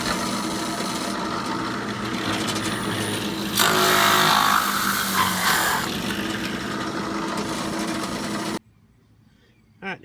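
A power drill drives a hole saw through metal laid over a 2x4, giving a steady, loud grinding whine that turns harsher in the middle and then cuts off abruptly.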